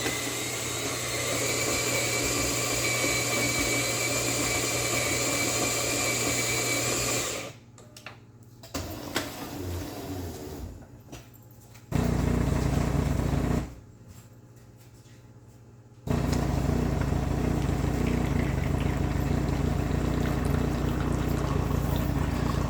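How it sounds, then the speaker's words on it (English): A Jura Impressa J9 coffee machine, running with its side panels off, brews an espresso: a loud steady motor hum broken by quieter gaps and a burst of pumping, then the grinding drone resumes until the end. "let's go ahead and make an espresso"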